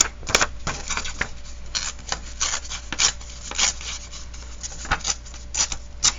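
Paper is torn and rubbed to give a ripped, distressed look on a decorated folio card stack, producing a series of close, scratchy rips and rustles in an irregular rhythm.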